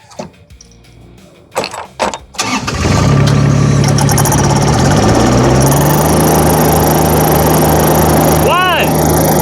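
Two Rippa RS06 and RS04 mini skid steer engines fire up and run loud and steady at close range, after a few sharp knocks, with the engine tone climbing as the RS06 drives in high gear.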